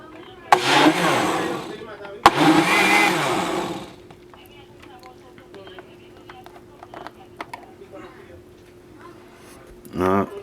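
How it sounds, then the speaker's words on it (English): A kitchen blender whirring through an aloe juice mixture in two loud bursts, the second lasting longer, followed by quieter clinks and handling noise and a short final pulse at the end. "So we're gonna mix this up again for it to blend into one. All right, so let's do some blending here."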